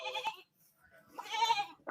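Goats bleat at a livestock market in Nabha, two or three close, wavering calls with short gaps between them and no talk over them.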